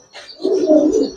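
A Giribaz coloring pigeon gives a short, close coo, a soft rising note swelling into a sustained throaty murmur.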